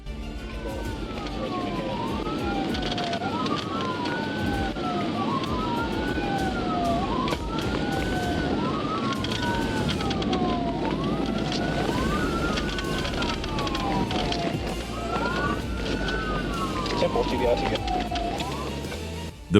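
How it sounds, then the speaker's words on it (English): A police car siren wails in a repeating rising-and-falling cycle during a high-speed pursuit of a Dodge Journey on a wet road, loud and continuous over rushing road and engine noise, briefly breaking rhythm near the end. "When Corporal Ibarra activated his emergency lights and siren to initiate a traffic stop"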